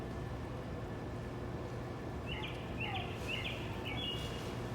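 Small birds chirp in short high bursts of a few quick calls on Elm Street in Kearny, New Jersey, after rain under dark clouds, faint and somewhat distant over a steady wash of street and background noise.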